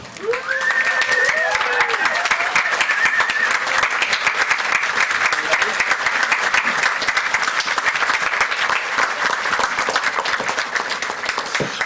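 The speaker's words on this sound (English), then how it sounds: "join me in a rousing round of applause for your families who made today possible" Sustained, loud applause from a large crowd at a Germantown Academy commencement, families being applauded, steady and dense throughout with a few voices calling out near the start.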